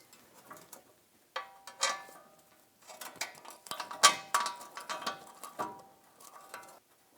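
Ratchet wrench turning a 10 mm socket on the oil pan bolts of a 1998–2011 Ford Ranger 3.0L V6, a few short bursts of close mechanical clicking separated by pauses, fairly quiet and with no voices.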